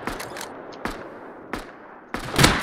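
Gunfire in the survival game Rust, four separate loud sharp shots spaced apart, each a short crack. The last one is followed by a brief louder burst of noise.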